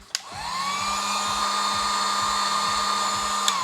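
A heat gun or hair dryer blows hot air onto shrink covering for an antenna matching unit kit, starting with a click and then whirring steadily at close range with a constant motor whine.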